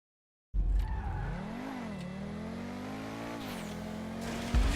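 A car in GTA Online engine droning steadily as it drives, pitch sliding up and down with shifts in speed, tires briefly squealing near the end, loud and close with no talk over it.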